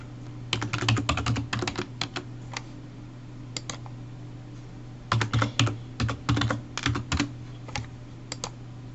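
Quick bursts of keystrokes on a computer keyboard as a login ID and password are typed, clustered clicks with a pause in the middle, close and fairly quiet over a steady low hum.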